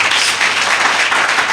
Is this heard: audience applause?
yes